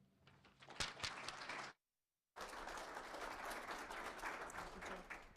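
An audience at the World Dairy Expo applauds to welcome dairy farmers Bob and Tara Vandoske, a dense burst of clapping that cuts off briefly and then resumes as sustained steady applause.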